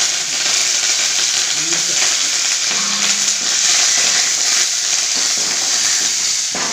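Rasam tempering of mustard seeds, broken dried red chillies, curry leaves and crushed rasam spices frying in a hot pan, a loud steady sizzle with scraping stirring sounds.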